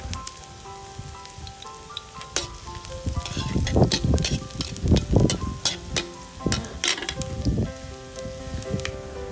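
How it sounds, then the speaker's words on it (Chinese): Garlic stir-fries in hot oil in a pan, a close, crackling sizzle that swells and pops irregularly as it is stirred, then settles to a steadier hiss. "我们先炒一下大蒜"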